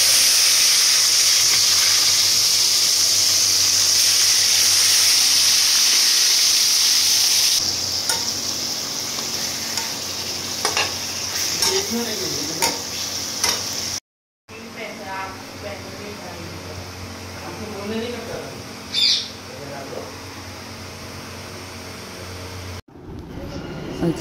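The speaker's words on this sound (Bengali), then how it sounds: "মাছগুলো ভেজে নিচ্ছি।" Fish frying in a pan, a loud steady hiss and sizzle that softens midway, then continues more faintly with crackles and a voice talking over it, broken by brief silent cuts.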